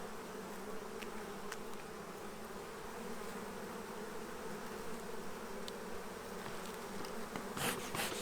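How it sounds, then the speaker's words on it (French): Saskatraz honey bees in an open hive on a hot day give a steady, close, even buzz throughout, with no talking. "Les abeilles sont vraiment tranquilles aujourd'hui avec la chaleur."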